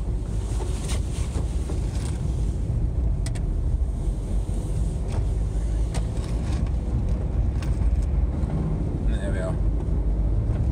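A car squeezes around a stopped bus via someone's driveway, with a steady, loud road rumble and wind buffeting the microphone throughout, plus a brief rising whine near the end; someone talks over it.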